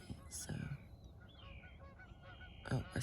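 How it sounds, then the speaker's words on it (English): Two geese honk loudly over still water at sunrise, a couple of sharp nearby calls at the start and again at the end, with quieter honks and faint background noise between. "Here comes the two geese that run off everybody."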